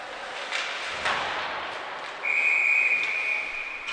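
A referee's whistle at a varsity high school ice hockey game, one sharp sustained blast of about a second, heard over rink ambience and a few dull thuds.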